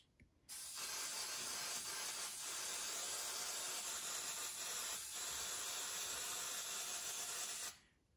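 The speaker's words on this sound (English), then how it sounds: "So I'm going to spray it again." A steady aerosol hiss of hairspray onto model HO-scale pine trees, one continuous spray lasting about seven seconds, close and loud, starting and stopping abruptly.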